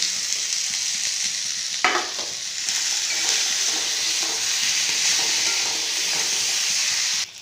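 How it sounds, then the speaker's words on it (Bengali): Katla fish head, chickpeas and fried potatoes cook in a spiced pan, a loud, continuous sizzle with a spoon clatter near the start and ongoing stirring, no voices. "এবার এর মধ্যে মাছের মুড়ো, ছোলা কলাই এবং আলু যেটা ভাজা আছে সমস্ত কিছুটা দিয়ে ভালো করে ভেজে নেব।"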